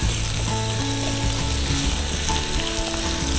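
Onion and garlic frying in hot oil in a home kitchen while making salt cod with tomato: a steady, loud, continuous sizzle and crackle with no voices.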